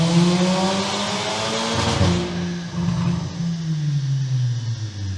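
A Volkswagen Golf 6R engine revs nearby, its droning note rising and falling in pitch through a sustained pull with broadband rush, loud and continuous without voices.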